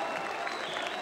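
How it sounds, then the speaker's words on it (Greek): Spectators lining a central avenue clap steadily as a military parade begins, a dense, continuous wash of applause throughout the short stretch with a faint murmur of voices underneath. "Χειροκροτούν λοιπόν"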